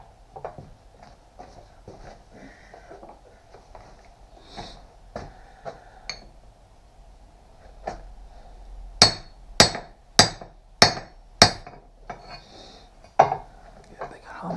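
Five sharp, loud metal hammer blows ring out in quick succession as a tight part is driven onto a Kubota backhoe being refitted to a Fordson Major tractor, preceded and followed by lighter taps and clatter.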